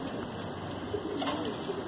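A desi pure breed pigeon coos softly in Bhopal, Madhya Pradesh, low gentle cooing close by against a steady background hum, with no talk over it.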